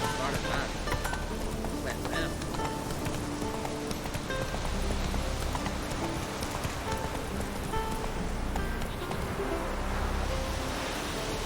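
Roach, the horse in The Witcher 3, gallops in a rapid, steady clip-clop of hooves that runs throughout at moderate loudness, with a player's voice heard at times over it.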